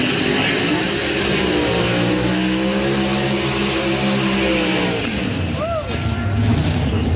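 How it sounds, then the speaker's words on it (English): Two Pro Stock drag cars roar through side-by-side burnouts at a drag race, a loud, sustained engine blare with rising and falling revs, heard over crowd noise and commentary. "There are the side-by-side burnouts between Jason Lyon in the left lane, Dave Connolly in the right lane"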